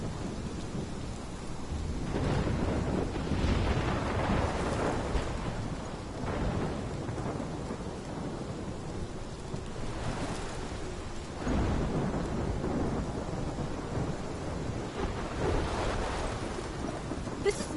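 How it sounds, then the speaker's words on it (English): A thunderstorm in the video game Life is Strange: steady heavy rain patters on surfaces while deep rolls of thunder swell and rumble repeatedly, loud and continuous throughout. "This is my storm."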